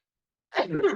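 One sharp, close sneeze from a person bursts out after a half second of silence and trails off quickly.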